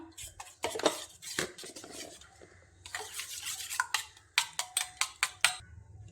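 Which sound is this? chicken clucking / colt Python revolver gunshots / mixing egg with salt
mixing egg with salt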